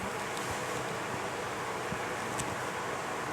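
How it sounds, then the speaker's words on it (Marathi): Strong, cool wind blows through dense forest near a village, a steady, close broadband roar with gusty buffeting that never lets up. "जोरात"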